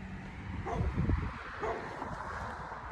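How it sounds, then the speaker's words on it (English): Several dogs bark and yip at a moderate distance, a short cluster of barks in the middle rising over a steady background hum, with no talking. "here we go with them dogs again"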